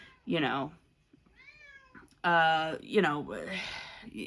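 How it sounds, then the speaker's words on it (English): A house cat meows several times, drawn-out, wavering calls close by, mixed with a person talking in between. "Here comes my cat."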